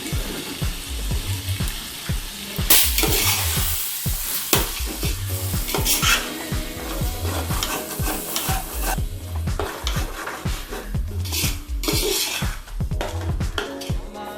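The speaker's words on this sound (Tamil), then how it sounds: "புதினா, கொத்தமல்லி அதையும் சேர்த்து கிளறி விட்டுக்கலாம்." Mint and coriander stirred into a pot of country chicken biryani, with steady scraping, stirring strokes over a continuous sizzle of frying, moderately loud and close with no voices.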